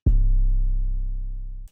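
One deep 808 bass hit sounds on its own in FL Studio with its out knob raised to about 32%, booming low with a punchy attack and a slowly fading sustain of about a second and a half.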